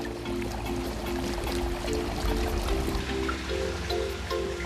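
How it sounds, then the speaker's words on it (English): Clean water pouring into a fertilized koi fry pool on a koi farm, a continuous rushing, splashing flow that stays loud and steady, with a faint low hum beneath it. "then filled with clean water."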